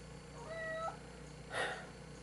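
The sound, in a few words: cat meowing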